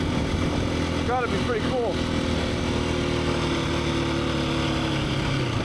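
Husqvarna FE350S dirt bike engine running steadily and close, a continuous mid-pitched drone throughout, with a rider talking briefly over it early on.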